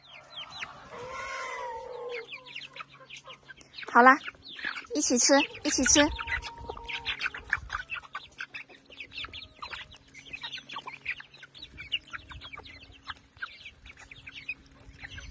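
A mother hen and her hungry chicks cluck and peep close by while being fed rice grains, and a person talks over the birds.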